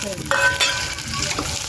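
Chopped onions sauté in a pan before garlic goes in, a steady close sizzle of frying with light stirring scrapes cutting through now and then.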